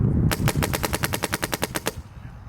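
MacDev Prime XTS paintball marker firing a rapid string of about fifteen evenly spaced, sharp pops close up, stopping abruptly as the hopper runs dry.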